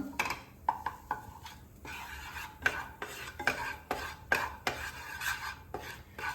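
Spices for paneer butter masala, including turmeric and garam masala, are stirred in a pan, making close, rhythmic scraping strokes roughly every half second over a low sizzle.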